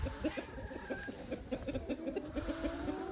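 Australorp chickens cluck in a coop on a snowy day, with a close, steady stream of repeated soft clucks and murmurs from several birds and a faint high whistle at the start.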